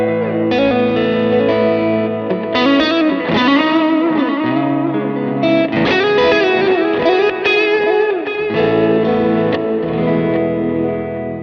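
An electric guitar on its neck pickup, played through a Line6 Helix with a driven tone and delay. It plays a continuous, loud ambient line with sustained notes, bends and echoing repeats, and no talking.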